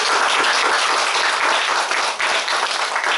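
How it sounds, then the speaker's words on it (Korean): A church congregation applauds at a worship service, dense steady clapping from a large crowd that fills the room from start to finish, with no voice over it. "우리 하나님께 영광의 박수 한번 드리고"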